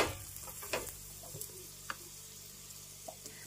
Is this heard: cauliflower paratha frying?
yes